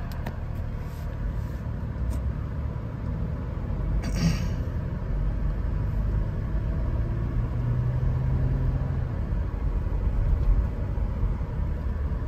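A 2013 Toyota 4Runner on a test drive, its engine a steady low rumble with road noise that holds continuously from inside the cabin, with no talk.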